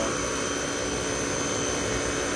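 A steady, loud roaring blower from a coin-operated carwash vending machine runs continuously with no breaks, a dense whooshing drone like a high-powered air dryer nearby.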